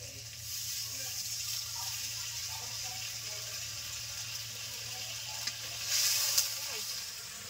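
A splash of water poured into spice paste frying in a pan for a boal fish curry, heard as a steady close sizzle with a brief rise in hissing near the end.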